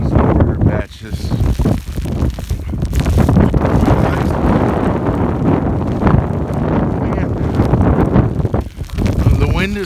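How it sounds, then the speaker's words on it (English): Strong, cold winter storm wind buffets the microphone in a loud, continuous roar with gusty swells, while people talk nearby under the noise. "The wind is coming and it takes your breath away because of the coldness"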